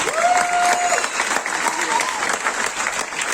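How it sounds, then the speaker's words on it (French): A large audience at a comedy gala in Cameroon applauds with dense, steady clapping that fills the space, while a performer's voice rises briefly over it near the start. "vous êtes nombreux à applaudir pour vous-même là."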